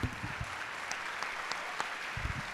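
Church congregation clapping during a Lord's Supper sermon, a fairly faint, sparse scattering of claps with some voices underneath.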